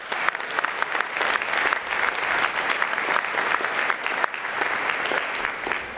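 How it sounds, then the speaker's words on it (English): Graduates at a university commencement ceremony applaud themselves in a large venue, producing a thick, continuous wash of clapping from many hands at a steady, loud level. "So a round of applause for yourselves, please."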